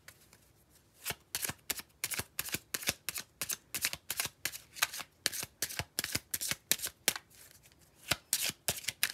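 Tarot cards shuffled and drawn by hand, a steady run of crisp, close riffling snaps and flicks with short pauses between them, no voice.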